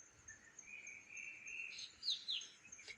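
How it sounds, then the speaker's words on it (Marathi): Birds chirp and tweet in the morning near the Guhagar coast, faint high calls over a soft insect-like background, with a few brighter chirps near the end. "तुम्ही आवाज ऐकू शकता किती भारी खूप आवाज येत आहेत चिव चिव चिंग"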